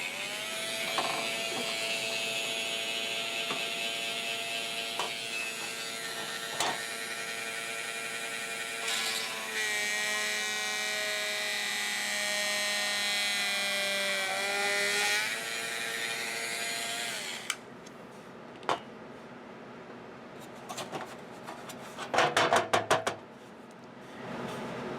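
A small drill whines continuously at high pitch for several seconds, then stops, followed by a few clicks and short bursts of rattling.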